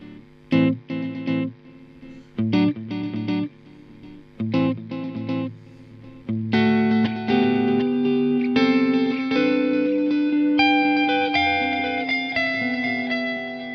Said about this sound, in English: This is a pattern-based delay.